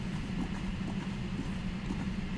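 Hooves of a unicorn mount in a Viking roleplay video game, a steady muffled clip-clop close by over a low rumbling bed, continuous and without pauses.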